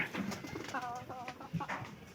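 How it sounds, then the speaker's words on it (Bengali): Pigeons cooing faintly in low warbling bursts, with some murmured background sounds and light rustling around them. "কবুতরের কি অবস্থা? এটা বেশি ডাকে, অতিরিক্ত বেশি ডাকে"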